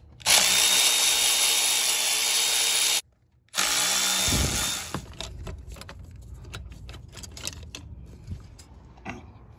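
Loud buzzing of a power tool spinning out bolts on a GM 5.3 or 6.2 engine during a high-pressure fuel pump replacement, two runs with a short gap, then quieter metallic clicks and rattles of a 13 millimeter socket.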